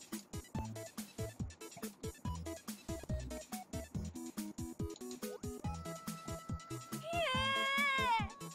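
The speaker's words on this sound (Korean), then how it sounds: "이렇게 고양이 놀래켜야 되는구나" A startled cat gives a short, rising-and-falling meow near the end, heard over a busy stretch of repeated musical tones and percussive beats from a game.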